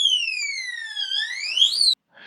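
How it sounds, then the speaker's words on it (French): A Vevor gun safe alarm sounds loudly up close as a continuous electronic tone sweeping down and then up in pitch for about two seconds, then stopping abruptly, followed by a faint trailing noise. "l'alarme elle sonne"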